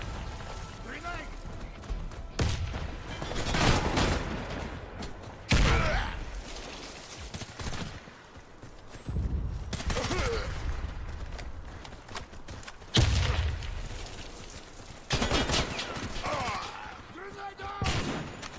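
A Warface ranked match erupts with grenade blasts and gunfire: repeated heavy bursts and rattling shots break out every few seconds, loud and close, while players talk over the action.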